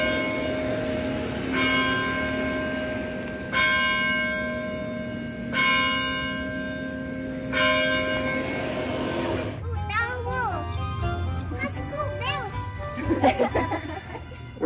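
The UP Diliman carillon in the Philippines rings a series of loud, resonant bell strikes that hang and overlap for several seconds. Then the bells stop and people talk and laugh nearby.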